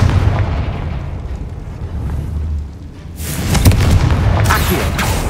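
A Confringo fire-blast spell from Hogwarts Legacy erupts as a loud, rumbling boom followed by crackling bursts, heavy and close with no talking.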